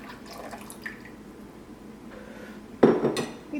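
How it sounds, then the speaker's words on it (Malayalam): Strained tomato soup poured into a pan of butter and cornflour, a soft liquid pour followed by a sudden loud clatter and splash of cookware near the end. "ഇനി ഇതിലേക്ക് നമ്മൾ അരിച്ച് വെച്ചേക്കണ തക്കാളിയുടെ സൂപ്പ് ചേർക്കാം"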